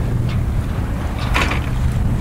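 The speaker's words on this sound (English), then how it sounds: "Relatively light winds, you can see from the flag." A sailboat moves in relatively light wind, with steady rushing wind and water noise against the microphone, loud and constant, with a few brief gusty swells.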